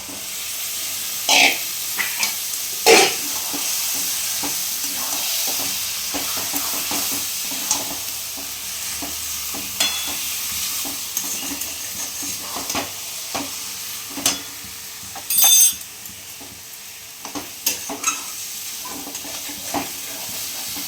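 Goat meat fat and bottle gourd stir-fry in a pan, a continuous sizzle broken by sharp scraping strokes and clatters of the spatula at irregular moments, close and fairly loud, with no talk.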